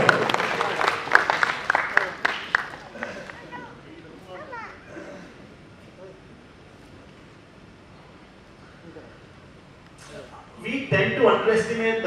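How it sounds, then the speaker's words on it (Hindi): A school audience claps for themselves at a musical talk session, with bursts of clapping at the start and again near the end, separated by a quieter stretch under a speaking voice. "अपने लिए ताली बजाओ"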